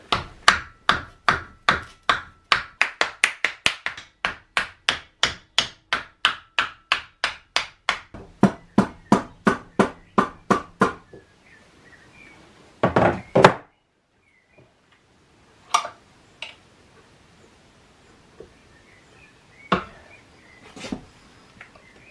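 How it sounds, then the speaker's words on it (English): A piece of wood used as a makeshift hammer striking a part on a Troy-Bilt lawn mower: a long run of steady, evenly spaced loud knocks, then a quieter stretch with a few scattered heavier blows and faint handling noise. "So we're going to have to hammer with this piece of wood."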